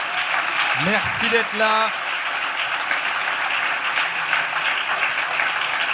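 Audience applause at an ethics award ceremony fills the hall as a steady, close wash of clapping, with a brief spoken thank-you from a voice near the start.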